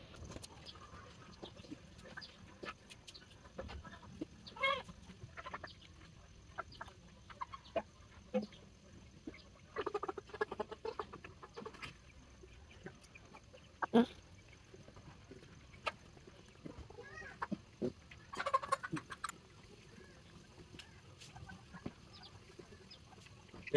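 Several broiler chickens cluck and chatter in short scattered bursts, fairly faint and close, over a quiet farmyard background with no talk.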